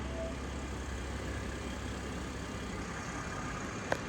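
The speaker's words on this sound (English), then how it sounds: "We'll leave the engine running." A BMW 540i with a straight-six twin-scroll turbo engine idles in park, a steady low rumble that holds even throughout, with one brief click near the end.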